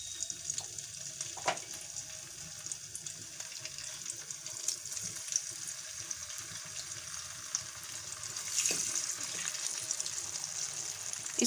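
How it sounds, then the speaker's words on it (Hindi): Pieces of fish frying in well-heated oil in a kadhai, a steady close hiss with occasional sharper crackles and pops, running continuously without talk. "अब हम इसमें फ्राई करेंगे फ़िश को।"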